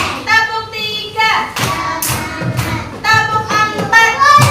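A school class claps hands in counted bursts, sharp thuddy claps landing in small groups between children's chanting voices, close and loud.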